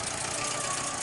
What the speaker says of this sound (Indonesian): kalian bisa cek dan dengar suara mesinnya ya. Nah, kalau suara mesin seperti ini,